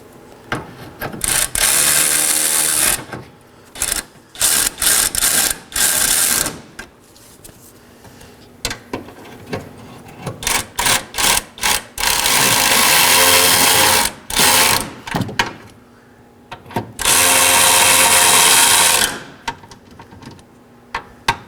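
A power tool tightens 12mm and 13mm bolts on the radiator support of a 2013-2019 Nissan Sentra, with loud bursts of ratcheting whir in short spurts and longer runs, separated by pauses.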